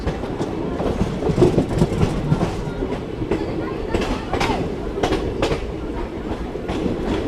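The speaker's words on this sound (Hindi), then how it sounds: "ये जो रेलवे ट्रैक की जो आवाज़ होती है ना, सुनने के लिए कान तरस जाते हैं। ये आवाज़ सुनिए ट्रैक।" Wheels of the Kanpur–Lucknow Intercity Express 14123/24 clatter on the rails in a continuous, loud, rhythmic clickety-clack, heard from on board with no talk.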